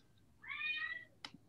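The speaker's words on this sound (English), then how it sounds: "And whose cat is that?" A pet cat meows once, a drawn-out, clear cry heard close by in a quiet indoor room during a class session, followed by a brief soft knock.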